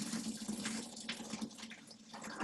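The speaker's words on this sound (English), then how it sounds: "we can open the cold water" Cold water runs steadily from a kitchen tap into a sink, a continuous close splashing hiss with no talking.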